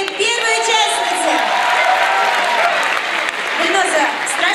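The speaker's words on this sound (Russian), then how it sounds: "еще раз бурные аплодисменты первой участнице" Loud, sustained audience applause fills a talent show selection round at a Farhad house of culture in 2009, steady dense clapping throughout with no voices over it.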